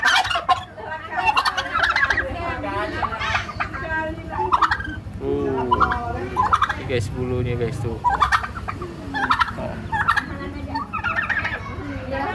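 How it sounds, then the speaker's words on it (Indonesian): Two large turkeys gobbling close by, with repeated rapid warbling bursts and clucks rising and falling in loud, irregular calls throughout, while someone talks briefly over them. "Ini jin, dua ekor ayam kalkun."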